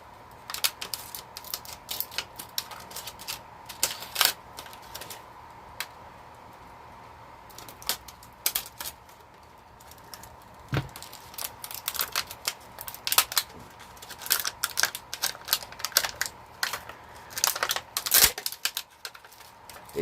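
A power inverter's packaging is opened, producing irregular close crinkles, clicks and rustling taps scattered through the clip with short quiet gaps, over a faint steady hum.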